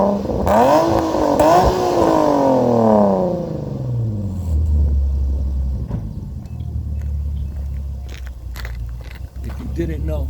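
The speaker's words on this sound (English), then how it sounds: "I got the NVIDIA catback exhaust with the Burke high flow cat with the K&N drop, and I'm gonna give you a little taste of what that's about" 2009 Infiniti G37xS with a catback exhaust, high flow cat and K&N drop, its engine revving up and down with rising and falling tones, then settling into a deep, steady idle rumble, with talking over the start.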